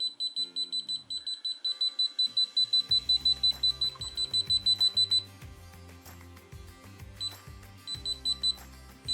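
Rapid electronic beeping from a handheld multimeter's non-contact voltage detector, steady and close, then a slower spaced beep pattern, with a low buzzing tone underneath.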